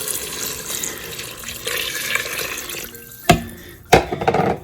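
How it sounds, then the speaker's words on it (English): Four cups of chicken broth poured into an Instant Pot in a home kitchen, a steady splashing liquid stream for several seconds followed by a couple of sharp clunks and renewed splashing, close and without speech. "we're going to pour in 4 cups of chicken broth"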